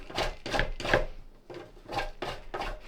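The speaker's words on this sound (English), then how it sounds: "So that's all the chocolate grated." White chocolate is rubbed against a grater in quick rhythmic strokes, about seven close, soft rasping scrapes in a steady back-and-forth pattern.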